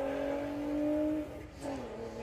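A lone VW drag car at Santa Pod runs at steady high revs with strong engine harmonics for about a second, then the tone drops and shifts as it pulls away, loud and close with no talk.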